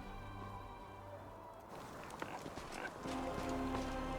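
Horse in the fantasy role-playing video game Pathfinder: Wrath of the Righteous, with hoof clip-clops and a brief whinny over a game music bed, growing louder toward the end.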